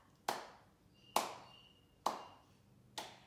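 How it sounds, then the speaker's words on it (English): Four sharp hand claps at a slow, even pace, roughly one per second, close and clear in a quiet room during a children's yoga class. "Can you help me clap?"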